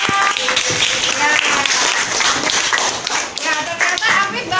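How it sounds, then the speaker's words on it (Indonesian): Children clap their hands in a classroom in a lively, uneven patter that runs throughout, with voices talking over it. "Tepuk tangan dong."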